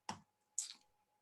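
Two quick, separate clicks of keys on a computer keyboard, close and fairly quiet, with nothing else in the room.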